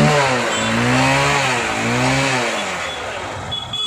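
A Honda Unicorn motorcycle, just repaired for a wiring and ignition coil starting fault, runs loud and close, its engine revving up and down in smooth swells before settling toward idle.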